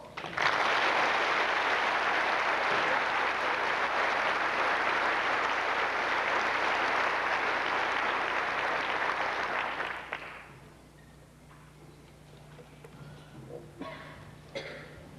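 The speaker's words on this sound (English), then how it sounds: "Round of applause." A graduation ceremony crowd breaks into loud sustained applause that holds steady for around ten seconds, then fades into a quieter room with scattered coughs and murmurs.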